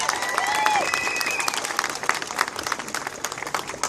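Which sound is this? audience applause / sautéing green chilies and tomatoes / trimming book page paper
audience applause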